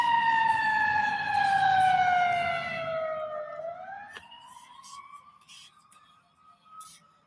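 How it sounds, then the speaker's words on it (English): Emergency vehicle sirens outside, a loud wailing tone that slowly falls in pitch, then turns and rises again as it fades into the distance. "I'm gonna wait till the sirens go."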